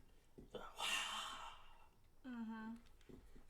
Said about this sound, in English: It sounds like somebody was breathing really loud.